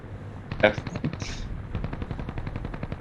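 Rapid aircraft machine-gun bursts in an air combat training simulation rattle out as a fast string of sharp shots, fairly quiet overall, with a voice briefly heard.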